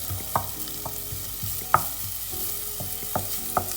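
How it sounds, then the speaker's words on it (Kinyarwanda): Onion fries in a little oil in a pan for maize ugali, giving a soft steady sizzle broken by a few sharp clicks of stirring against the pan, with no voices. "aka gatunguru ndamenye ko gahiye neza, ariko ushyiramo amavuta makeya pe"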